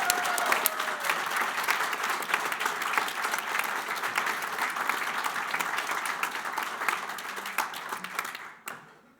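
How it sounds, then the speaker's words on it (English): Sustained applause from a graduation audience at a college ceremony, dense steady clapping across a large room that carries on for several seconds before tailing off abruptly at the end. "Give them one more round of applause, everybody."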